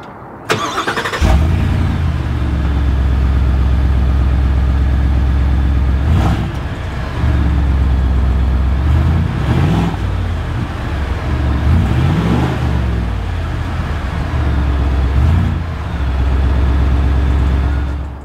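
A truck engine cranks and catches, then settles into a steady, loud idle with a few brief revs rising and falling over a low rumble.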